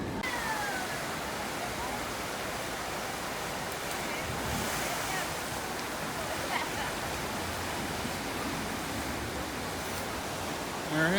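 Water rushes and splashes steadily on the Gully Washer river rapids ride at Six Flags Fiesta Texas, a dense continuous wash of surf-like noise close by, with faint voices mixed into the background.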